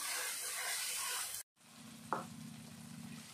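Tomatoes fry with asafoetida and salt in a pan, giving a bright steady sizzle, then a brief cut to quieter frying with a low hum and a single short clink.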